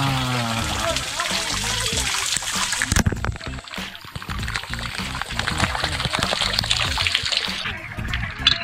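Healing water splashing and pouring at an outdoor forest trout spot in Huasca, Hidalgo, with steady splatter and trickling close by, and people talking over it throughout.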